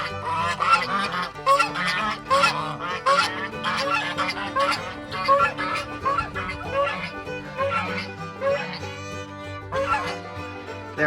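Domestic geese kept with chickens in winter honking repeatedly, loud and close, a rhythmic chorus of overlapping nasal calls over a low hum, continuing without pause for several seconds.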